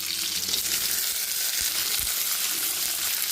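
Okra frying in a pan with mustard seeds and shallots gives a steady, close hiss of oil that runs throughout, with a couple of soft low thumps as the vegetables settle.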